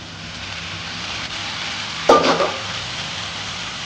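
Onions fry in a pan with a continuous loud sizzle for a biryani gravy, then a brief burst of crackling and scraping as tomatoes go in and are stirred.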